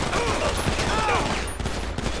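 Gunfire from an armored vehicle in GTA 5 Online, rapid bursts of shots rattling continuously under a noisy game mix, with a voice talking faintly beneath.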